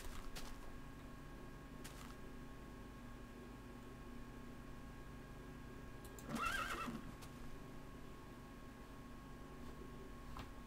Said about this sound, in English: Oh, some black horses right over there.